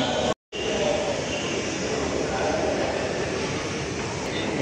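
A metro train runs at Hazrat Nizamuddin metro station in Delhi, giving a steady, loud rolling rumble and hiss that carries on without a break after a very brief cut near the start.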